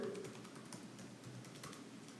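A password being typed on a computer keyboard: a quick, irregular run of light key clicks, faint and close, over a quiet steady hum.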